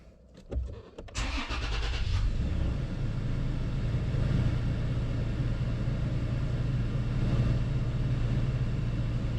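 A Toyota Tacoma engine cranks with quick starter clicks, catches with a rising roar, then settles into a steady, loud idle rumble for the rest of the stretch.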